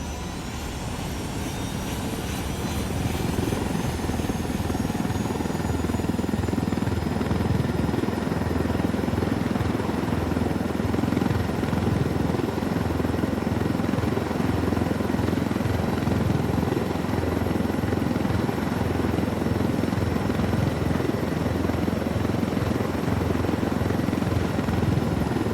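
Helicopter in Ghost Recon Wildlands, its rotor beating as a steady, loud, continuous drone that holds from start to finish with a low thrumming pulse and a faint high whine above it, with no talk.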